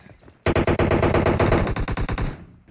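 A rapid machine-gun burst rattles out in a shooter video game, roughly a dozen close, loud shots in quick succession over about two seconds before cutting off.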